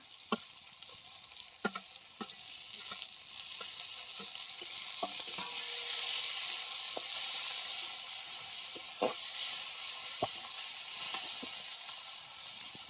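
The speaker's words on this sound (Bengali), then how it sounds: "এই মশলাগুলো দিয়ে সুন্দর করে কষিয়ে নেব।" Spice paste of garlic, melon seed, tomato and green chilli sautéing in a pan: a steady moderate sizzle with scattered sharp spatula scrapes and taps, no talk.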